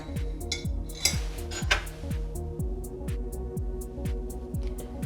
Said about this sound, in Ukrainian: І все це ретельно перемішуємо.